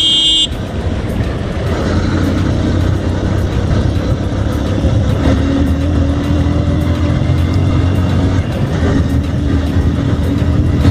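A car cruises along a highway at night, its engine and tyre roar loud and steady from inside the cabin, with a brief beeping tone at the start and faint engine pitch shifts later.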